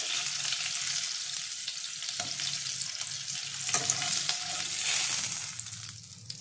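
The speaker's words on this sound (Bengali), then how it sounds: "দুটো মাছ ভেজে নেবো" Pomfret fish fry in hot oil, giving a steady, close sizzle that hisses on without a break and swells slightly toward the end.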